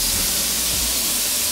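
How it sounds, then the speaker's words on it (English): Pork sizzles in hot oil in a frying pan, a steady close hiss of frying that fills the whole moment without pause or speech. "Put a little oil on, because there is the pork sizzling all the way."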